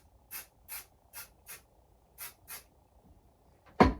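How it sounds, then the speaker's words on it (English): 505 temporary spray adhesive hisses from a can onto flannel in six short, evenly spaced bursts, followed by a sharper clunk at the end. "So I'm just going to spray a little 505, but not where the design is."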